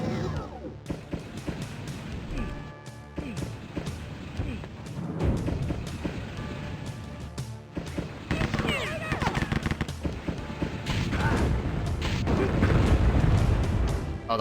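Rapid explosive bursts and booming blasts from a missile-launching weapon labelled as a flamethrower in Rise of the Triad: Ludicrous Edition. The blasts repeat dense and loud throughout, with heavy low rumbles building toward the end.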